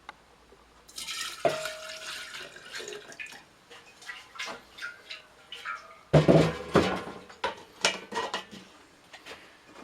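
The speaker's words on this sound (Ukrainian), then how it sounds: "Для початку я відділю невелику кількість напою у меншу ємність." Homemade grape brandy (chacha) is poured from a large bottle into a smaller container, with glassy clinks, a trickling liquid stream and gurgling splashes that come in bursts, growing louder and fuller near the end.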